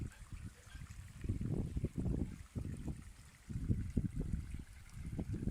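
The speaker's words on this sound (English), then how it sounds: "So we've just been running the final flow test for the stream," Water trickles and splashes through a newly dug garden stream during a pumped flow test, a soft, uneven babble of small pulses heard fairly close and faint.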